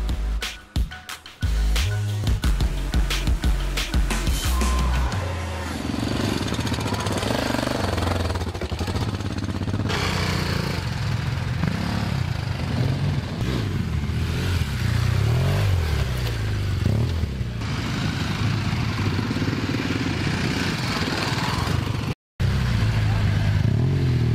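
A motorcycle engine roars and revs continuously at close range on a track, with gear changes and shifting pitch, a brief cut near the end.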